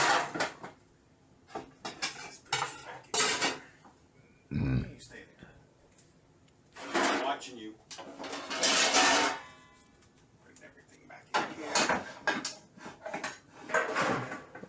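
Metal pots and pans clank and clatter in bursts as they are shoved and stacked into a cramped kitchen cabinet, with cupboard bumps and scraping between quieter gaps.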